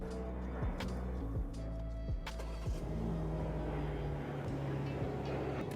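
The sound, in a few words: BMW G80 M3 engine starting and idling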